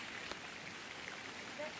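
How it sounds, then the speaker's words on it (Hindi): Heavy rain falls in a hill village, a soft, continuous hiss with scattered faint drop taps, quiet and even throughout. "ये बारिश का कुछ नहीं कर सकते हैं क्योंकि यहाँ पर बहुत ज़्यादा बारिश हो रही।"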